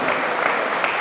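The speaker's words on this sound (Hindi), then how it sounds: "इन्हें ज़ोरदार तालियाँ इनके लिए बजनी चाहिए" An audience applauds a poet at a poetry recital, with a brief burst of loud, dense clapping heard close and alone.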